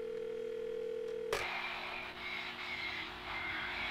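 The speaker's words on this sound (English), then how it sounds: "Who phones someone just to breathe heavily?" Heavy breathing on a phone line in a video game, faint and hissy: a steady electronic tone cuts off into a soft, noisy line where slow breaths rise and fall.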